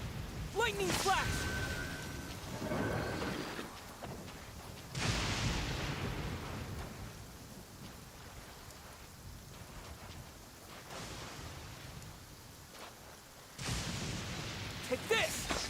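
A lightning strike effect in Genshin Impact lands as a sharp crack followed by a rumbling burst, against a steady rain-like hiss of background ambience. A second strong burst comes near the end.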